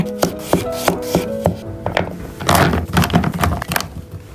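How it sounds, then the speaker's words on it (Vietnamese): A knife chops peeled pumpkin into long slices about 1 cm thick on a board, giving a run of distinct, evenly spaced close knocks that turn into a busier, denser burst of cuts toward the end. "Mình cắt bí thành từng miếng dài và có độ dày khoảng 1 cm."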